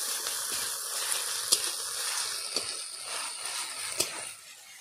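Spices and onion paste fry together in a pan for a light snakehead fish curry, making a steady close bright sizzle broken by a few sharp stirring clicks.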